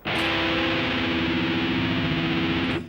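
A distorted electric guitar plays a minor sixth chord that rings out loud and sustained for a few seconds, then cuts off.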